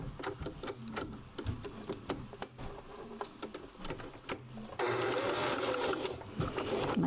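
Sewing machine stitching fabric bookmarks, running in bursts of fast rhythmic needle clatter with short pauses and then a steady continuous stretch, close and fairly loud, with no talking.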